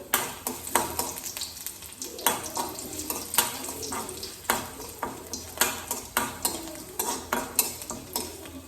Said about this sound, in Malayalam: ഇത് നമ്മൾ വെളുത്തുള്ളി നന്നായിട്ടൊന്ന് മിക്സ് ചെയ്യാം.